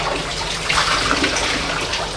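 Water running and dripping off a heavy, soaked crocheted dress as it is lifted out of a basin, a steady close splashing trickle with no talk.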